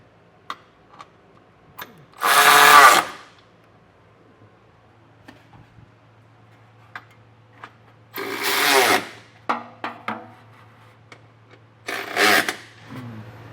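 A power tool tightens trailer hitch bolts on a 2025 Hyundai Palisade during a Curt hitch receiver install: three loud separate bursts of buzzing, rattling fastening about a second long each, with light clanks and taps between them.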